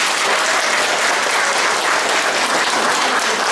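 Steady, loud applause from a concert audience filling the hall without pause, with no voices standing out.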